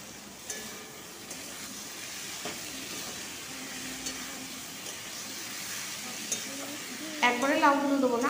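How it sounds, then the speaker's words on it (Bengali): Bottle gourd with spices being stir-fried in a pan for lau ghonto with fish head, a low steady sizzle broken by occasional spatula clicks and scrapes, with a short voice heard near the end. "লাউগুলোকে দিয়েও খানিকক্ষণ কষিয়ে নেবো লাউর সাথে মশলাগুলো"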